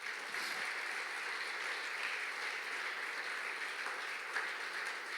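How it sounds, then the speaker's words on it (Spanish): Steady applause from a church congregation fills the room, a dense, continuous wash of many hands clapping at even loudness from start to finish, with no voices standing out. "Dale un aplauso a Dios."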